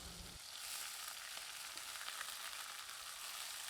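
Tomatoes and coriander leaves sauté in a pan for Andhra-style coriander thokku. An even, close hissing sizzle runs throughout with no talking.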